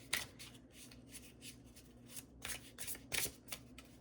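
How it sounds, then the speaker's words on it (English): Oracle cards shuffled by hand, a quiet, close series of brisk papery riffles and flutters in uneven bursts, with no talk. "All right, we'll give it a couple more shuffles."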